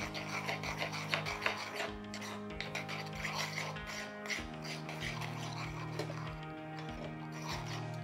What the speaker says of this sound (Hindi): इन सारे इंग्रेडिएंट्स को आप अच्छी तरह मिक्स कर लें।